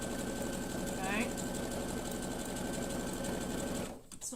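A sewing machine runs steadily, stitching a satin stitch over fabric, its fast, even motor whir continuing loud and close for about four seconds before stopping abruptly.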